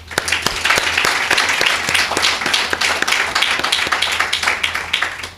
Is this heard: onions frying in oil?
no